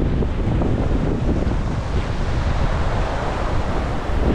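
Strong gusty wind buffets the microphone outdoors in rainy, stormy weather during gold prospecting in France, a loud continuous roar of rumbling noise with no talking.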